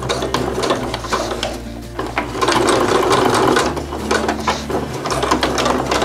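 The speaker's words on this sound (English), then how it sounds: "we're sewing a 1/4 inch seam." Sewing machine stitching a quarter-inch seam across denim jeans fabric, a steady mechanical whir and clatter that pauses briefly partway through before running on, close and alone with no talking.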